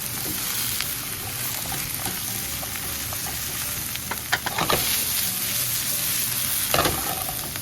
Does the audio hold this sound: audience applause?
no